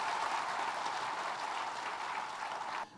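An audience at the Vistaar Shiksha Samman 2025 education awards claps in a steady, dense round of applause. The sound is faint and distant and stops abruptly near the end.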